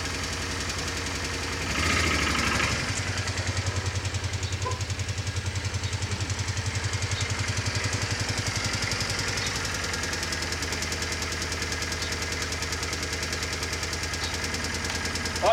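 A motorcycle engine idles with a steady knocking thump after a clunk as it is put into gear, running close and continuously.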